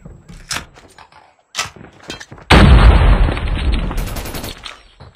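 A frag grenade thrown and exploding in the mobile shooter Call of Duty Mobile: a few light clicks and handling sounds, then a sudden loud, broad blast with a rumbling tail lasting about two seconds.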